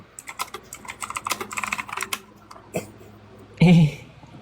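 Rapid clattering keystrokes on a keyboard during a live stream, close and steady for about two seconds, then sparse taps and a short louder thump, with faint voices in the background.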